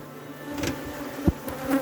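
Africanized bees buzzing around an opened hive's inner cover in Trinidad, a steady close drone with a few louder passes and knocks.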